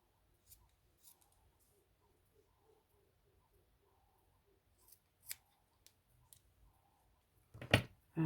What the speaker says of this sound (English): just in the middle, just cut a straight line up